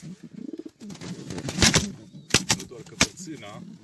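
Close-up pigeon cooing, rhythmic throaty pulses, mixed with rustling and a few sharp clicks or taps.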